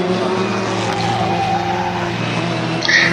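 A historic Formula Ford race car at Brands Hatch is pushed to the limit through a corner, its engine droning loudly and steadily. A brief tyre squeal comes near the end, with no talk over it.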